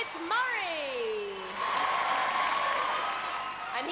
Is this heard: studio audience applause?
yes